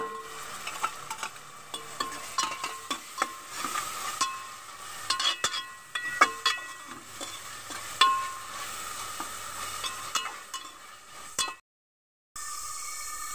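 Ginger garlic paste fries with softened onions in a pan, a continuous sizzle with repeated scraping and stirring knocks, then a brief dropout of silence near the end.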